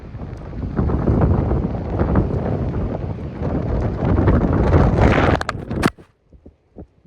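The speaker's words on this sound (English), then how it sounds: "this is how bad the wind was" Strong outdoor wind batters the microphone with loud, continuous rumbling buffets for about six seconds. It then drops away sharply, leaving only a few faint soft thumps.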